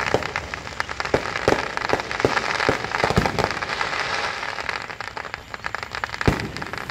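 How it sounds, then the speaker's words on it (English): Fourth of July fireworks in a small town, heard as a steady crackling wash with repeated sharp pops and bangs, some near and loud, running continuously without talk. "A little firework show with my girls in town"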